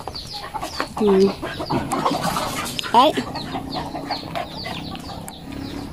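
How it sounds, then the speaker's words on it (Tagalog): Backyard chickens clucking and calling at close range in a rural province setting, with a sharp squawk near the start and another burst around the third second, while a person speaks briefly over them. "Mga manok."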